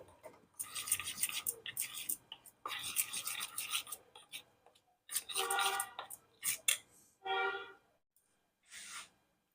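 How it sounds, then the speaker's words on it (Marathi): Milk powder is stirred into milk with a spoon, giving bursts of close scraping and swishing strokes separated by short pauses. "मिल्क पावडर दुधामध्ये मिक्स करून घेऊ"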